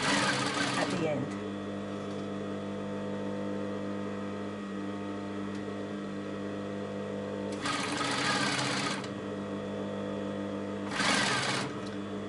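Sewing machine top stitching a piped neck or sleeve seam on a garment, a steady close whirring drone running throughout with louder bursts at the start and near the middle and end.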